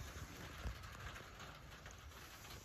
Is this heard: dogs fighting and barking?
no